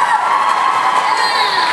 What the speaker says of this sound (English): can I get a round of applause for our other Scott